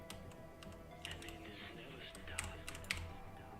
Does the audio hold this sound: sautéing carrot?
no